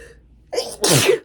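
One close, forceful sneeze: a quick sharp intake of breath followed by an explosive burst, with no talking around it.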